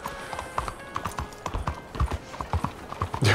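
Horse hooves clip-clop in Red Dead Redemption 2 as a steady, fairly quick run of close, crisp strikes on hard ground, with a faint creak of tack and a brief louder thump near the end.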